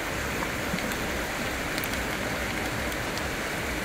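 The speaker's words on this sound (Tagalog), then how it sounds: "Parang umuulan, oh." Steady rain falls by a river, a dense even hiss of drops on surfaces that holds at a constant moderate level throughout with no voices.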